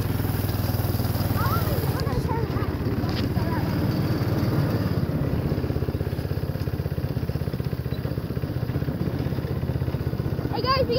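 A small go-kart engine running steadily with a rapid putter, rising slightly as the throttle is eased, with people talking over it outdoors.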